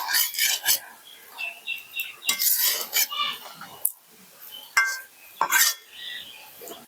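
Spoon or spatula scraping and clinking in a cooking pan as sugar is stirred into a Bengali lotichingri (taro stolon with shrimp) curry, giving a series of close, irregular metallic scrapes and taps with short quiet gaps.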